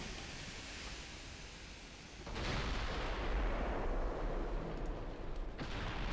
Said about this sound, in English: Those 14-inch guns do sound really good.